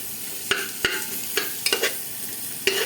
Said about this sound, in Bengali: এরপর দেবো পেঁয়াজ কুচি করে আমরা কিন্তু ডাইরেক্ট প্রেশার কুকারে করছি